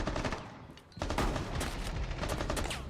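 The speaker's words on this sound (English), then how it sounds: "That's a Doc shotgun, which is just silly." A Doc shotgun fires in Rainbow Six Siege with a loud, close blast at about one second, followed by dense gunfire and impact noise through the rest of the clip.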